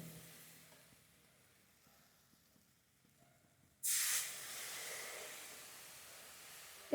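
Water poured into hot oil and spices in a pan for a Bengali fish curry with potato and eggplant, a sudden loud hiss that bursts in and settles into steady steaming after a quiet stretch.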